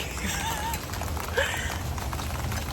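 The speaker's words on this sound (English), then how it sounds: "it currently is raining on us" Rain patters steadily on a parked truck's chrome-plated stainless exhaust outdoors, a continuous hiss of drops with a few brief louder knocks.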